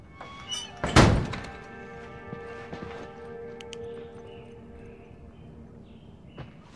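In The Last of Us, a door slams shut with one heavy, close thunk, followed by quieter clunks and ambient game hum.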